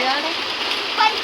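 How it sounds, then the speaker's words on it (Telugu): Heavy rain with hail falls in Hyderabad, a dense, even hiss of downpour close by that continues without a break. "వర్షం ఎలా పడుతుందో ఒకసారి చూడండి"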